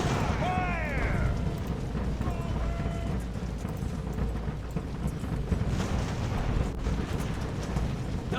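Cannon broadside from sailing warships in Ultimate Admiral: Age of Sail, a rolling series of deep booms under battlefield din, with a shouted command at the start.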